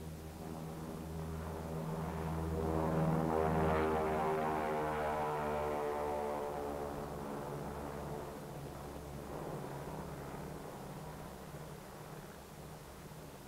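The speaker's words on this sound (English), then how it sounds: "With her escort of photographic and weather and instrument planes, Dave's Dream proceeds to the Bikini target." Four-engine B-29 bomber flying toward Bikini Atoll with escorting photographic, weather and instrument planes, a steady droning engine roar with layered low hum that swells slightly and stays continuous throughout, heard from a moderate distance.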